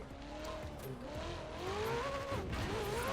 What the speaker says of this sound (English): Fourth gear drift